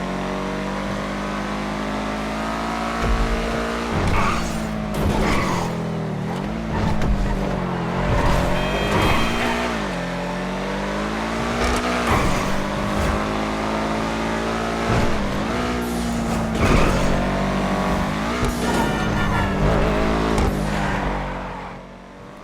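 A Schlagen GT sports car in GTA Online roars steadily with a loud, sustained engine note, its pitch rising and falling through repeated gear changes and revs, with no talk over it.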